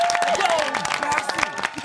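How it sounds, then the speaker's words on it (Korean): A studio audience applauds and cheers in a short, lively burst at a talk show with the K-pop group TREASURE, the clapping dense and close, with voices mixed in. "박수! 박수!"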